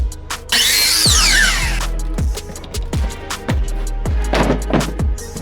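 A power drill drives 2.5-inch screws into wooden legs of an outdoor table, with a loud whining burst followed by a series of short motor pulses that wind down one after another, close and prominent.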